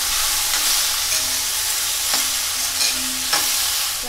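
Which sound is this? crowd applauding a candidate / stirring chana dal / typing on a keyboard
stirring chana dal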